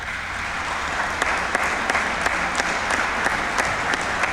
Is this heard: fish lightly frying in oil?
no